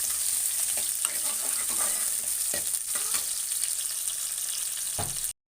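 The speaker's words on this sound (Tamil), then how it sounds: "ஒரு 20 சின்ன வெங்காயம் போட்டுக்கிறேன் நான். நல்லா வதங்கட்டும்." Small onions (shallots), about twenty of them, sautéing in a pan for a dried-fish curry: a steady close sizzle with scattered stirring scrapes and a few louder knocks, no talking.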